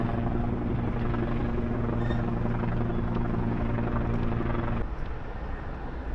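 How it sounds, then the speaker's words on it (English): A helicopter's steady rotor drone hangs overhead near the Brooklyn Bridge, loud and continuous, then thins out slightly near the end. "That helicopter is still there. You're just hovering."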